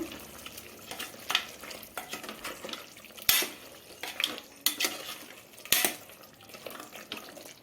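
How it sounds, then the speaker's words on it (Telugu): Mutton pieces coated in chili powder are stirred in a pot with a spoon, giving repeated close scraping and clanking strokes, with a few sharper metallic knocks against the pot's side and a faint sizzle underneath. "దీన్ని ఒక్కసారి కలిపేసుకుందాం."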